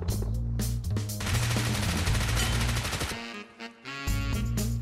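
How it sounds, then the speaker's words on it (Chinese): An explosive hunting bow fires in a video game, a loud dense blast-like burst over tonal game sounds, with sharp bursts repeating around it in quick succession. "队友一发爆炸猎弓解决他"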